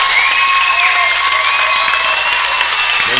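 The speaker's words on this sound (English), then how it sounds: "Both teams will get a round of applause as they send their starters to the bench" Sustained applause and crowd cheering fill a high school gym at a boys basketball district championship as both teams' starters head to the bench, loud and continuous with no pauses.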